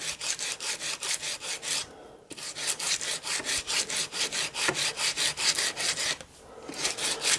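Hand file worked over a small metal steam engine part, fitting a mechanical lubricator: steady, close rasping strokes about every quarter second, loud and alone, with two brief pauses between runs.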